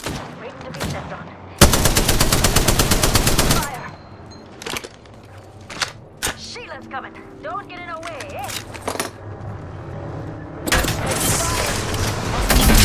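Automatic gunfire in the video game Apex Legends, with a long loud burst of rapid fire followed by scattered single shots and a final sustained volley, mixed with game effects and voice chatter.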